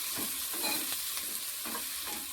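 Finely chopped onions and curry leaves fry in hot oil while a spoon stirs them. A constant close sizzle is broken by several scraping strokes across the pan, and no one speaks.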